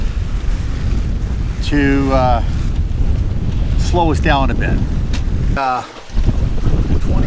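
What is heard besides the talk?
sailboat sailing in strong wind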